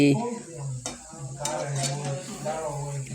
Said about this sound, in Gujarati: આપણા ગોટા તળાય છે